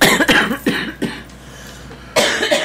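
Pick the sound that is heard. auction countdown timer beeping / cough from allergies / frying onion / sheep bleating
cough from allergies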